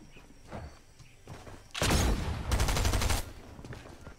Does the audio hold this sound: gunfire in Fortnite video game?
yes